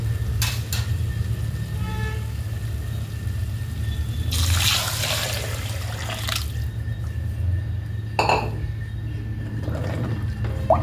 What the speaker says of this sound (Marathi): आता आपण पाणी टाकून घेणार आहोत याच्यात.